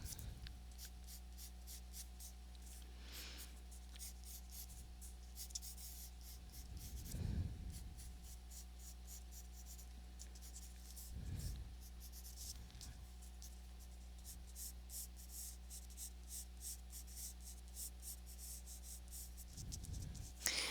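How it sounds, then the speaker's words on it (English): A pencil sketches a vase on paper for cross-contour line drawing, giving a faint, steady scratchy rasp of short repeated strokes over a constant low hum, with no talk. "So I'm not just drawing one side, I'm drawing both sides at the same time."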